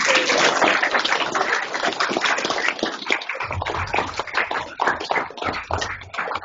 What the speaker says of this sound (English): join me in giving a warm round of applause to class of 1995 Pro Football Hall of Famer, Mr. Kellen Winslow.